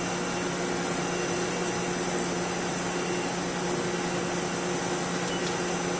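Mori lathe taking a metal turning cut of about 50 thousandths per side, a loud steady machine drone with constant hum and broadband hiss, unchanging throughout.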